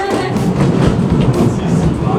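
The Flying Dutchman funicular at Cape Point runs noisily up an old train track, giving a steady loud rumble with rattling thumps and clacks all the way through.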